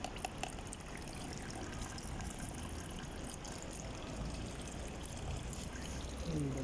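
Water trickling and draining out of a garden plant pot, a steady soft wash of splashing and dribbling, close and continuous, with a brief lower gurgle near the end.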